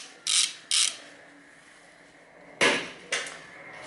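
Ratchet clicking while loosening a brake caliper bolt on a 1995–2016 Nissan front brake: four short bursts of rapid clicks, two close together, then a pause, then two more, near and alone.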